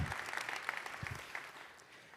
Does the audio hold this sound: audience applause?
yes